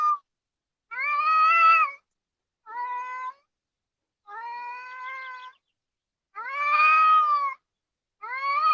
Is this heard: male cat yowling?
yes